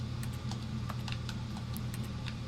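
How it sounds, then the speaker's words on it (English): Toilet in the Stanley Parable video game that sounds just like keyboard typing: a rapid, irregular run of light clicks and taps over a low steady hum, close and moderately quiet. "Why does the toilet sound like a keyboard?"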